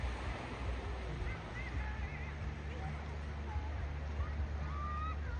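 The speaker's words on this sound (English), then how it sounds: "ocean" Ocean surf on Diani Beach, Kenya, a steady near rush of breaking waves with low rumble, faint voices of beachgoers in the background.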